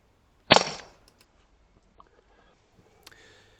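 A single sharp, close crack of a BRK Commander XR .177 air rifle firing a Barracuda pellet while squirrel hunting, followed by quiet with a few faint ticks and a small thud later.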